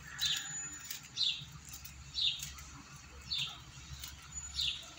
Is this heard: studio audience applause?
no